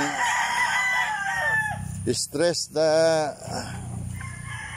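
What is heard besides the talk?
chickens and rooster crowing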